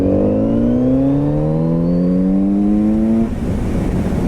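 A 2018 Kawasaki Z900RS motorcycle engine revs steadily upward in pitch for about three seconds, loud and close, then drops off abruptly to a rough idle rumble.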